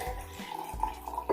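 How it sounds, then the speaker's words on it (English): Warm water poured into a transparent glass during a fireworks-in-a-jar science experiment, a short, fairly quiet, steady splashing pour with no voices. "Now let's take the warm water and then pour it into"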